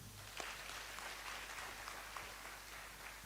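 At a ceremony inducting newly qualified physician assistants, an audience claps feebly: a faint, thin patter of scattered hand claps over a steady room hum, with no voices.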